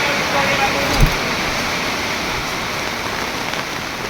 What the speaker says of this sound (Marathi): बघा खूप असा पाऊस चालू आहे